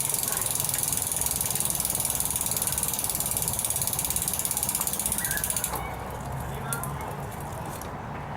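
Bicycle cassette ratchet clicking in a rapid, steady stream as the freewheel spins and the gears are shifted, loud and close, then the clicking drops to a quieter, slower texture near the end while a person talks over it.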